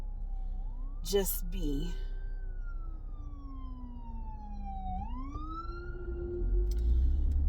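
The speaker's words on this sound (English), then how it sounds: "I hear the ambulance" An ambulance siren passing outside wails in slow rising and falling sweeps, fairly distant, over a low rumble, while someone briefly speaks nearby.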